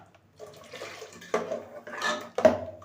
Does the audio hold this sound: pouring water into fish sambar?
yes